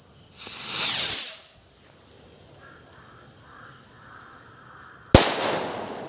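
A rising whistle-like fizz of a homemade firecracker, then a few seconds of insect-like hiss before a single sharp, loud bang.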